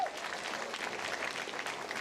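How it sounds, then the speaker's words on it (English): An audience at an employee-of-the-year red carpet show claps steadily, a dense wash of applause throughout with no voices over it. "So just one more round of applause, guys."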